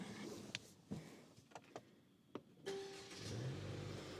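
A Mercedes C300 engine cranks briefly after a few light clicks and catches, settling into a steady low idle close by, with no talking.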